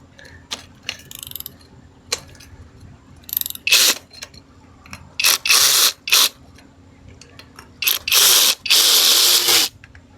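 A ratchet removing bolts from a Small Block Chevy engine, with scattered clicks giving way to loud, close bursts of rapid ratcheting, several sustained runs each lasting about a second.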